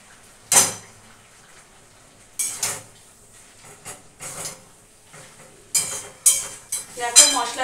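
A spatula scrapes and clatters against a pan as cabbage is stir-fried with spices after potatoes and tomatoes, in sharp separated strokes, close and fairly loud, with quiet gaps between them.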